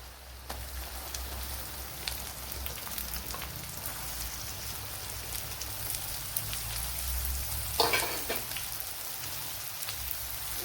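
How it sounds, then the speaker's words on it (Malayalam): Sliced onions with curry leaves frying in a pan for Mangalore-style chicken: a soft, continuous crackling sizzle like light rain, fairly quiet, with a brief louder burst near the end. "ഇതിലേക്ക് ഇനി സവാള ചേർത്ത് കൊടുക്കാം."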